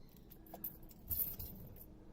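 A bunch of keys jangles faintly near a car, a few soft metallic rattles and clinks in a quiet space with no talking.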